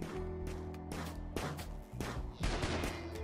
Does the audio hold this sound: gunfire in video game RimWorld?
yes